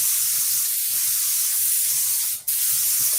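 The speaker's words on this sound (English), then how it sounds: "They're gonna spray it all right." A paint sprayer blasting a steady, loud hiss of thick paint at close range, with one brief break in the spray just before the end, no talking.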